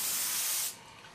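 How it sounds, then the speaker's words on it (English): An airbrush sprays paint in one short, loud, broad hiss that stops abruptly after well under a second, leaving a faint quiet tail, with no talking. "I'm actually going to spray it and move it really, really quickly."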